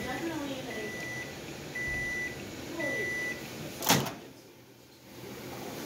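A microwave oven hums steadily, beeping three times, then a door pops open with a sharp clunk; the hum stops and fades to quiet.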